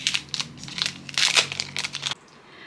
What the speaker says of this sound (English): I will unwrap these real quick.